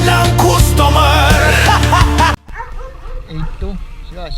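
A big Doberman barks loudly and close in quick bursts, mixed with music and someone speaking, then the barking cuts off and quieter voices follow.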